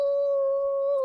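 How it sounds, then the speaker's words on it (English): Dogs howl from out of a blizzard in a single long, steady, sustained howl that holds one even pitch for about a second, with no voices over it. "Just this howling of dogs"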